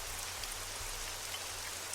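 Rain falling in the Black Mirror video game, a steady hiss of drops spread evenly and softly throughout, with no voices.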